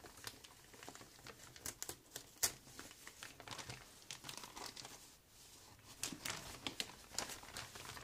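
Paper wrapping crinkles and rustles as a parcel is unwrapped, in soft irregular bursts of crumpling and tearing close by with brief pauses between handlings.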